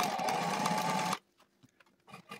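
A Sailrite sewing machine runs test strips of sail fabric for a sharpie sailboat sail, a loud steady mechanical whir for about a second before stopping abruptly, followed by faint clicks and handling sounds.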